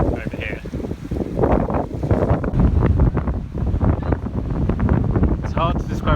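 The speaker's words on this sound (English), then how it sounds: "It's hard to describe how strong the wind is here" Strong coastal wind buffets the microphone near a lighthouse on a sandy shore, a loud, continuous rumbling roar with gusty swells throughout and a few brief higher tones near the end.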